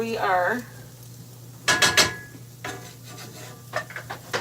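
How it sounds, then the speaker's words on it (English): A whisk beating a flour mixture in a bowl, a quick burst of rapid scraping strokes followed by scattered lighter scrapes, with a brief voice at the start. "I switched to a whisk"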